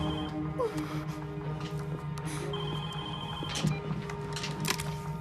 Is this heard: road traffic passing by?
no